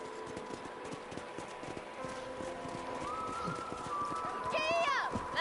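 Horse hooves in the western game Red Dead Redemption, a rapid clip-clop of galloping beneath a talking voice and background music, with a horse whinnying near the end as the sound grows louder.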